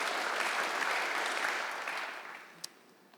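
Applause from a church congregation during an online Kingdom Celebration service, a dense steady clapping that swells briefly and then tapers off as it fades out.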